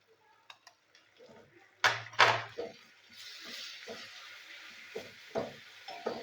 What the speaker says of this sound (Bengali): আদা রসুনের পেস্টটা আমি ভালো করে ভেজে নেবো।